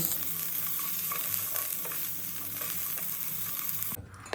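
Cashews, onion and chillies for a malai gravy sizzle steadily in oil in a pan, a dense close frying hiss with occasional soft stirring scrapes, cutting off abruptly near the end.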